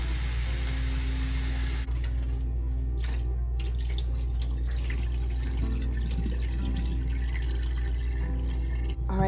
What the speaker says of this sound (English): we're just going to run a little bit of water over them and give them a good rinse